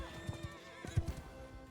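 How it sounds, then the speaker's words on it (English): A horse neighs in Mount and Blade II: Bannerlord, a short whinny with a few hoof-like thumps under battle sounds, moderately loud and close. "Finally took out this guy's horse."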